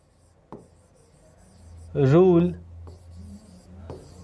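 Chalk or marker scraping across a classroom board in a few short strokes, close and moderate, alongside a brief spoken word from the teacher.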